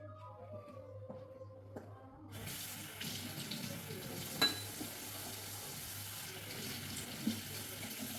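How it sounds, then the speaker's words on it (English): Water runs steadily from a kitchen tap for about six seconds, starting abruptly after a quiet opening, to be mixed with eggs for a chicken tender coating; moderately loud and close with faint background hum. "So now I'm just going to add some water and then make a mixture."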